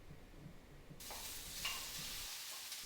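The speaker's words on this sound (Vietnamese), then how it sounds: "Hành thơm và vàng một tí thì cho tôm vào." Shrimp are dropped into hot oil with fried shallots and stir-fried in a pan: a quiet murmur gives way to a sudden bright sizzle that carries on steadily, close by, with no voices.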